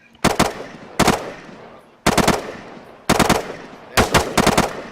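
A gun fires in burst mode during weapons training, five sharp, loud bursts of several rapid shots each, spaced about a second apart and ringing out between volleys.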